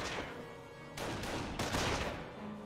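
Dense battlefield gunfire from the video game Company of Heroes, overlapping bursts of rifle and machine-gun fire swelling loud in the middle, with no voices.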